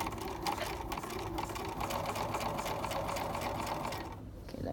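Sewing machine top stitching along a seam allowance, a fast, steady mechanical whir with a rapid needle rhythm, running close and continuous before stopping near the end.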